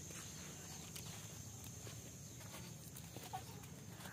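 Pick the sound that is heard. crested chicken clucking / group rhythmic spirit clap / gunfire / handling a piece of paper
crested chicken clucking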